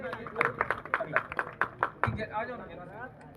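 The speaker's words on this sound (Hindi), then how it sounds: "एक बार जोरदार तालियां इनके लिए।" Scattered claps from a farewell ceremony audience, a quick run of separate hand claps over about two seconds, with voices and speech carrying on underneath and taking over at the end.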